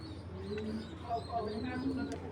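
Giribaz flying pigeons coo softly in the background, low rolling calls repeating at a faint, distant level while someone talks over them.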